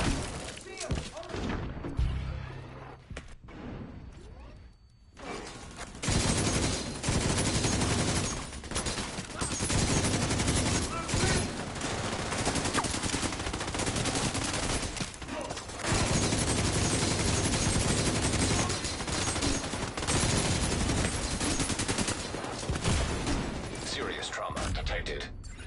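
Sustained airburst weapon fire in a shooter video game, a loud continuous barrage of blasts and crackling bursts running nearly throughout, with a brief quieter gap early on.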